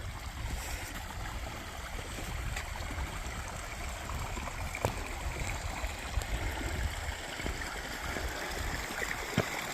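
A muddy creek flows along the Boulder Mail Trail in Escalante, Utah, with a steady broadband wash of running water and a few faint clicks, heard fairly near and alone throughout.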